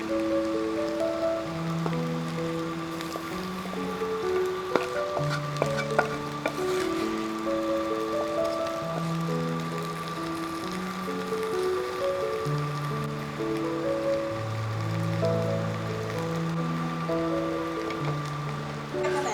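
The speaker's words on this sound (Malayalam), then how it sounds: "അപ്പം ഇതേപോലെ മത്തി ഇങ്ങനെ പൊള്ളിച്ചെടുക്കുമ്പോൾ തീർച്ചയായിട്ടും പഴയ പാൻ തന്നെ വെക്കണം" Sardines pan-roast in an old pan, giving a steady rain-like sizzle throughout. Gentle background music plays under the sizzle, and there are a few faint clicks.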